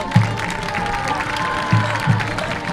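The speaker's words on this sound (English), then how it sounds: "Let's have a round of applause for senior princess Mia Lucía." A crowd at a high school football game applauds steadily with a dense wash of clapping, a few low thumps punctuating it at close range.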